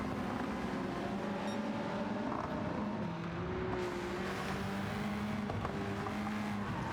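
Simulated race cars of the Gran Turismo 7 ASTC series, including two BMWs and a Honda, pulling away from the start at Grand Valley Speedway, a dense continuous engine roar with rising and shifting tones, loud and steady throughout.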